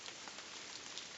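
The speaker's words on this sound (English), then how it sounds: "You can hear the snow melting off the trees" Melting snow dripping from trees in a wet Washington winter forest, a steady patter of many small drops, like light rain, heard close and alone.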